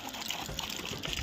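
Water runs out of a newly fitted CPVC bathroom pipe to flush cutting debris from the line, a faint, steady trickling gush with no voices.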